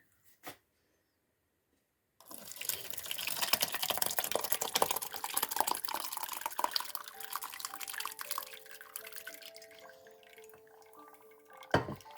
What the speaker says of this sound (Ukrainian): Ось так воно стікає все гарненько